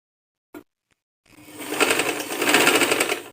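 A sewing machine stitches a simple frock, running steadily and fairly close for a couple of seconds after a brief tap and a short pause.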